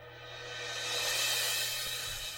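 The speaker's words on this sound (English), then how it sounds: "that whoosh on a cymbal that has a whoosh, that sort of exciting feel into it" A recorded cymbal whoosh used as a musical transition rises as a broad, bright wash that swells toward the middle and eases off, sustained and alone, with a low steady hum beneath.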